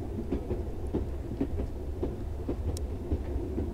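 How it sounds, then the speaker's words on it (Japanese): Train running in the horror video game ReTurn One Way Trip, a rhythmic clickety-clack of wheels over rail joints with a low rumble underneath, steady and moderately loud. "別の列車に戻ってきちゃった"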